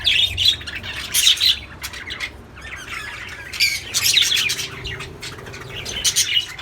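A breeding colony of budgies and parrots in a large cage fills the air with shrill squawks and busy chirps, overlapping calls rising and falling in bursts, nearby and continuous with no voices.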